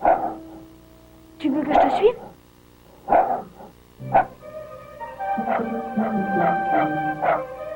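Fripouille, an animated cartoon dog, gives several short yips and barks between lines of dialogue, with musical tones rising underneath toward the end.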